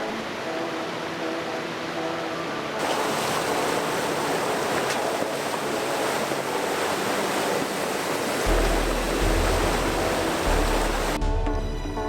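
A vehicle on a canyon trail near Parowan, Utah splashes through a water crossing with a broad, continuous rushing wash that begins suddenly and runs alongside a low engine rumble.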